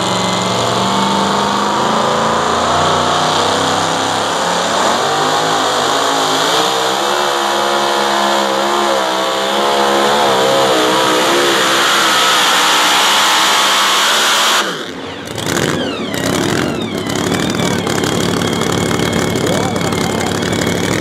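A super modified 2WD pulling truck roars at full throttle at a truck pull in Columbus, Texas, loud and sustained with a wavering pitch, then briefly cutting out and picking back up near the end.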